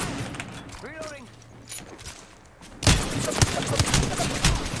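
Video game gunfire erupts partway through as a loud, rapid burst of repeated shots that continues to the end, preceded by a quieter stretch with a voice talking.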